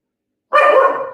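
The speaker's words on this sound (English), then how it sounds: "Lulu, that's my dog." A pet dog named Lulu lets out a single loud, close bark after silence, trailing off into a brief tonal yowl.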